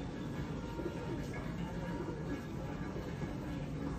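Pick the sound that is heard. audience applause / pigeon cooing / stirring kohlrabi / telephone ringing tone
pigeon cooing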